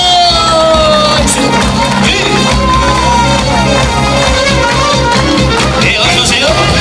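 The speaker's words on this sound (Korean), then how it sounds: "박수!" An audience at a small concert for seniors cheers and shouts loudly, with whoops over a steady wash of crowd noise and a musical backing.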